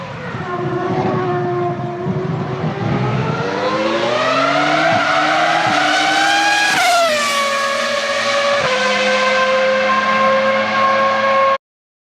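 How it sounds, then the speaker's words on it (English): A loud race car engine revs hard, its high whine climbing and dipping in pitch over several seconds, running continuously with no other sounds. "That's revving higher than a street bike, right?"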